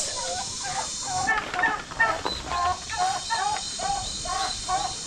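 Backyard chickens on a Philippine farm call among other domestic fowl, a series of short clucks and squawks repeating over a steady hiss of background noise.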